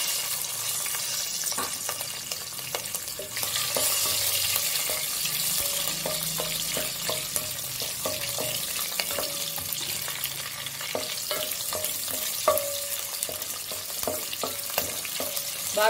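Green chillies fry in hot oil in a pan for flavored rice, giving a steady, dense sizzle with frequent light scrapes and clicks of stirring throughout, no voices.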